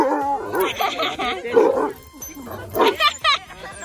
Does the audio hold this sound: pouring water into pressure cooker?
no